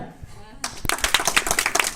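Applause from an audience at a hypnosis show starts abruptly after a quiet moment and continues as dense, fairly close clapping.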